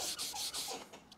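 Wet sanding of painted tractor clear coat with sandpaper and water, heard as close, quiet rhythmic rubbing strokes, about five back-and-forth passes that fade at the end.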